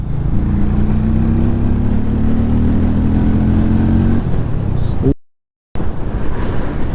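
A Hero Mavrick 440 motorcycle accelerates hard in third gear, its engine note climbing steadily under heavy wind rush, then cutting out briefly before the roar returns.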